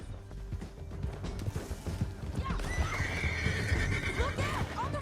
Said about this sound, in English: Get him on your horse.